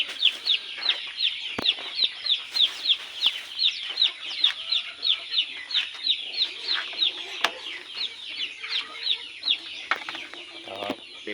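Small chicks chirp in quick, high, repeated peeps, a steady near chorus while being given store-bought chick feed, with occasional light knocks and rustles underneath.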